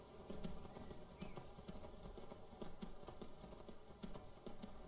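In the Skyrim video game, a horse's hooves clip-clop at a fast, steady gallop while wolves chase it, a continuous drumming gait over a dense game soundscape with no speech.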